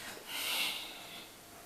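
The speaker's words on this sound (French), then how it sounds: "on expire tout par le nez" A forceful, breathy exhale pushed out through the nose during a yoga pranayama breathing exercise, a single soft rushing hiss that swells and then tapers off over a second or so, close and fairly quiet.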